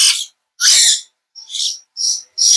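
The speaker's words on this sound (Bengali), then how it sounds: "কিন্তু ময়না পাখি দেখেন" A golden mynah bird gives a series of five loud, harsh, high calls in quick succession, each short burst separated by brief silence, close by.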